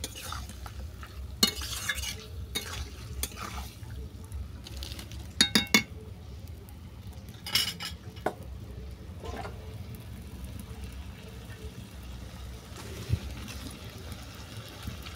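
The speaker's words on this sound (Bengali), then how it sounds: "আবার ওই মশলা আর চিকেন ভালো করে কষিয়ে নেব" Chicken and spices are stirred and fried in a pan. Quiet background sizzling is punctuated by scattered clinks and scrapes of a utensil against the pan.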